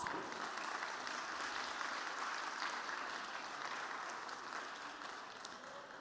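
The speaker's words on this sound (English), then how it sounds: "Let's give April a round of applause." An audience at the Nordic Beauty Days 2022 live show applauds steadily for April after a beauty wellness segment, a dense wash of clapping that holds throughout and fades slightly toward the end.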